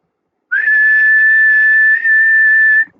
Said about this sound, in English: if I whistle or make a high frequency noise here